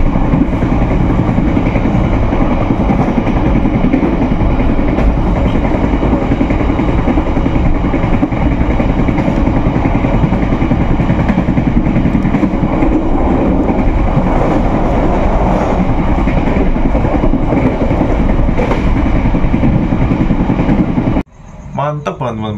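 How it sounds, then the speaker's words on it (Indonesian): The KA Kutojaya Selatan passenger train pulls into Sidoarjo station in Indonesia, heard from on board as a steady loud rumble of wheels and carriage noise. It runs continuously until an abrupt drop near the end, with a voice speaking over it. "kereta api Kuto Jaya Selatan dari Kiara Condong sampai sekarang sudah sampai Sidoarjo ini"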